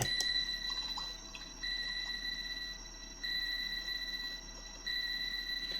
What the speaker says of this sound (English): Sonar 4.